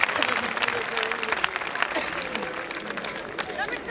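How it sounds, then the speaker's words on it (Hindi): Loud, dense applause from a school audience at a cultural and traditional program, steady clapping filling the space throughout with some voices mixed in. "एक बार जोरदार तालियां बजाएं"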